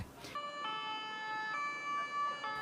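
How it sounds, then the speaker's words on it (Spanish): Ambulance siren of the fire department's paramedics at a road crash scene, a steady multi-tone wail holding nearly unbroken through the whole stretch, fairly loud and close, with no talk over it. "Paramédicos del Cuerpo de Bomberos acudieron en una ambulancia para estabilizar a los afectados en el sitio."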